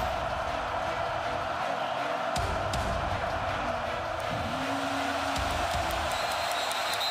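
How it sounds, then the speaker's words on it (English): Boisterous sellout stadium crowd at a Penn State college football game, a dense wall of roaring noise that stays loud and steady throughout, with brief swells and some indistinct voices in the mix. "a wall of white noise. And a very vociferous and boisterous sellout crowd here at Penn State."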